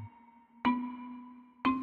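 Marimba notes mapped from a Fibonacci sequence at a very slow pace: two clear, separated mallet strikes about a second apart, each ringing out and fading, close and unaccompanied.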